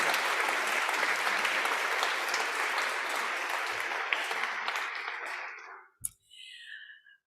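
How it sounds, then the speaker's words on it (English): A crowd at a hospital donation announcement applauds steadily for several seconds, the clapping thinning and fading out, followed by a brief knock and faint murmuring. "One last round of applause for the Cator family."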